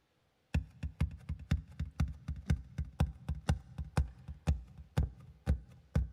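Tapped beat on a hard surface run through a guitar delay pedal: a steady stream of soft, quick taps with echoed repeats filling the gaps, starting after a brief silence and continuing evenly and fairly quietly.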